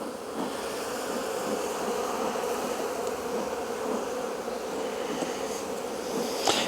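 A dense, steady hum of honeybees swarming around a hive being smoked out from under its ears, a continuous insect drone filling the whole stretch with no talk.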